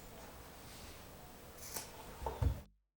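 Scissors make one clean cut through a bra strap where it meets the back band, a faint snip followed by a few quiet close clicks in a hushed room.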